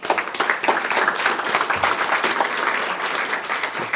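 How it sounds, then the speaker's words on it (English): A room of guests at a Pasco Chamber of Commerce monthly luncheon bursts into applause, dense, steady clapping from many hands held close and loud for the full stretch without a break. "Let's give them a round of applause."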